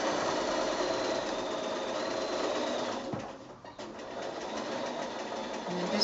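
A sewing machine doing free-motion quilting runs in a steady, fast mechanical whir, dipping briefly midway before resuming at moderate loudness.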